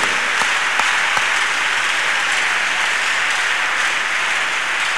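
A church congregation claps hands in praise worship, a dense, steady wash of many clapping hands throughout with a few sharper individual claps standing out early on, no talk over it.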